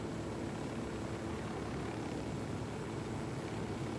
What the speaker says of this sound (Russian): Ой, речные самолеты.